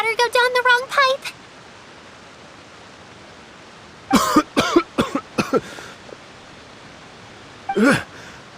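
A girl in Genshin Impact coughs and sputters after swallowing water, in a quick cluster of short coughs, then a second burst and a final cough after a quiet gap.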